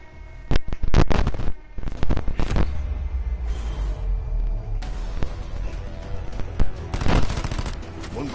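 Loud video game gunfire erupts in rapid volleys and fusillades, then thins to scattered single shots before another dense burst near the end.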